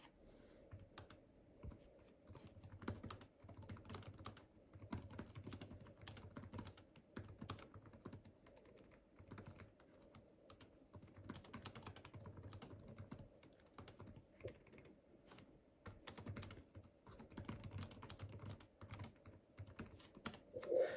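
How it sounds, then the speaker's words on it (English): Quiet, continuous typing on the keyboard of a 2023 ROG Flow X16 gaming laptop, with soft rapid key clicks in uneven bursts and brief pauses, recorded close up. "Okay, let's do the typing test here."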